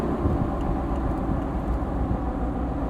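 A 1977 Ford Bronco engine drones steadily while driving, a constant low rumble with road noise that stays even throughout.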